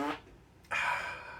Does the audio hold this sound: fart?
yes